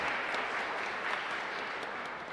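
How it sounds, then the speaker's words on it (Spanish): A church congregation applauds a girl named Sofía during Mass at a parish, dense steady clapping of a fairly large group that holds level for a couple of seconds without pause. "Fuerte aplauso para Sofía, entonces."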